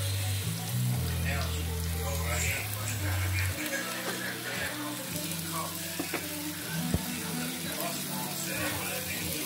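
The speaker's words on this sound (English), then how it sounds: "Just let it sizzle." Steady frying sizzle from hamburger patties marinated in steak sauce in a hot pan, continuous crackle with a low hum at the start and scattered pops.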